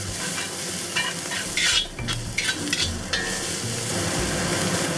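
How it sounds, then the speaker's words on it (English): Ginger, garlic and peppers tossed in a pan over medium-high heat give a steady, close sizzle, with brief scraping stir strokes partway through. "And we'll toss in the ginger, garlic, and the peppers."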